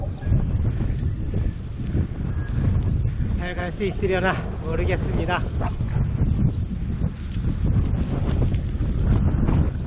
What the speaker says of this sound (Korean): 오늘 바람이 굉장히 많이 불고 있어요.